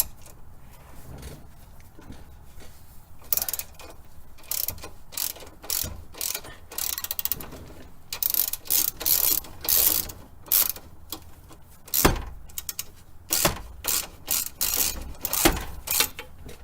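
A ratchet with a 15 mm socket turns a penetrating-oil-soaked nut on a lifted 1999–2004 Jeep Grand Cherokee WJ, giving bursts of quick clicking strokes in uneven groups, close and moderately loud, with no talk.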